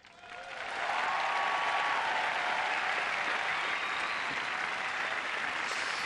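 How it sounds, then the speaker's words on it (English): Steady, sustained applause from a large crowd at the 2006 Queens Club tennis final, greeting runner-up James Blake; it swells within the first second and holds loud and even throughout. "James Blake stepping forward to take the plaudits from the crowd"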